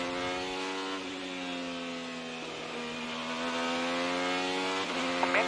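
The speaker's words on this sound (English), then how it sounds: "Let's go on board the MyJack Honda for Rahal Letterman Lanigan, Yuri Vips." Onboard engine of a Honda-powered Rahal Letterman Lanigan IndyCar race car, a steady high-pitched whine with strong harmonic tones, dipping and recovering briefly a few times, heard close and alone without talk.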